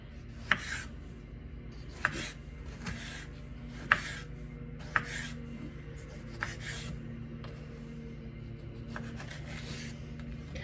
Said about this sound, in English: Loving my new knife. Cuts this tomato like butter.